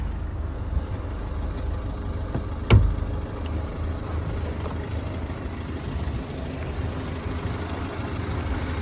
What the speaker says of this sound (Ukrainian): Гарний звук двигуна, як ви чуєте. Двигун працює чітко та без нарікань.